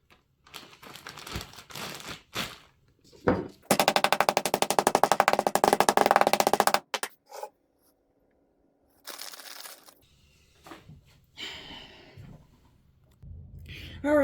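Two pounds of pork loin get pounded flat for tenderloins, with a rapid, dense flurry of sharp thwacks lasting about three seconds. Scattered single knocks and handling noises come before and after.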